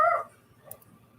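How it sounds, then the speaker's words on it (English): Dogs barking indoors at home: one short bark at the start, then faint yips and whimpers further off. "the dogs always wait till I start doing a live and like, okay, you know what? We should start barking right now"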